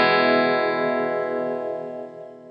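A guitar strums an open major triad chord once, the strings ringing out rich and full and decaying slowly over a couple of seconds, with no voice.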